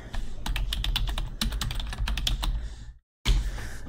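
Rapid keystrokes on a computer keyboard as a search is typed, a close, steady clatter that stops for a brief silent gap, then resumes.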